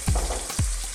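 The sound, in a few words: garlic frying in a pan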